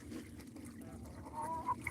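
Chickens in a mixed flock kept with ducks give low, scattered clucks, with one brief higher call near the end over a quiet yard background.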